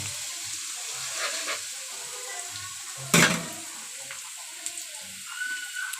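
Onions frying in a pan with steady soft sizzling and crackle throughout, broken by one sharp clattering burst of stirring or a utensil strike midway.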